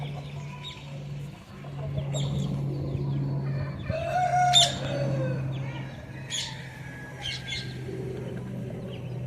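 Breeder chickens and double-bodied country fowl cluck steadily while a rooster crows nearby, a busy, fairly loud barnyard chorus with no talking.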